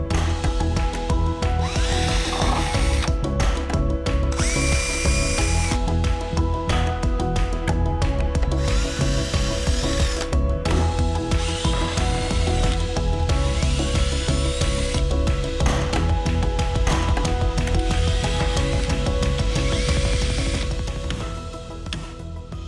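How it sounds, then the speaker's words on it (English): A power drill whines loudly in repeated bursts, pausing briefly between runs as it bores into roof tubing, then winds down at the end. "and we're going to drill"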